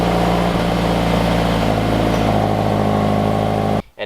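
A stock-exhaust Scion FR-S idles steadily with a low, even engine drone, loud and close, before cutting off abruptly near the end.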